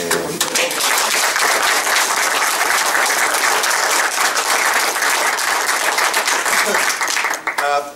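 Sustained applause from a sizable crowd at a community radio station's live launch, steady and dense throughout, tapering slightly at the very end.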